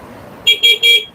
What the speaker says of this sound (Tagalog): yan po yung busina niya